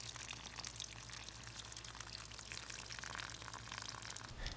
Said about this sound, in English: That way that water can drain out.